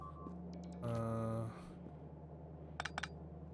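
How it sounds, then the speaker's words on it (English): A beeping alert from the factory-building video game Gigafactory sounds as a short burst of stacked electronic tones, followed later by a few quick high beeps over a steady low game hum. "That's a lot of beeping. I hate that sound."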